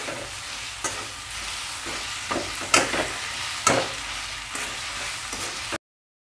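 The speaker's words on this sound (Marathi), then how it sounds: "ही वांगी यामध्ये अशी चांगली फ्राय करून घ्यायची" Roasted eggplant fries in a pan for a bharit dish, a steady soft sizzle with occasional sharper scrapes and stirring knocks, close by, before an abrupt stop.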